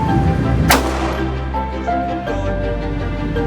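A single sharp handgun shot rings out loudly near the start during a concealed carry qualification at an indoor range, followed by lingering echo and steady background hum.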